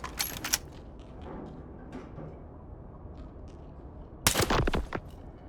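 Pistol gunfire in S.T.A.L.K.E.R. 2: Heart of Chornobyl, with a couple of sharp shots at the start and a louder burst of several quick shots near the end, separated by quieter background noise.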